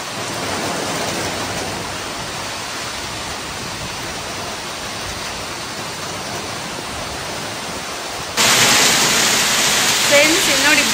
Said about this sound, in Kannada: ಬೆಳಿಗ್ಗೆ ಎದ್ದು ಹೆವಿ ಗಾಳಿ ಮಳೆ ಚೆನ್ನಾಗಿದೆ ನೋಡಲಿಕ್ಕೆ